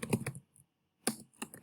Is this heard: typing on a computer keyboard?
yes